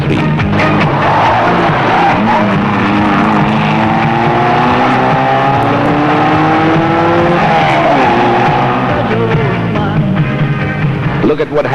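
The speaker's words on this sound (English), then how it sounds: "the biggest little brute of a rally car, the Mazda" A Mazda 323 rally car races at the 1993 Mabuhay Rallye, its engine loud and close with sustained revving and rising pitch sweeps as it accelerates and shifts through the full stretch.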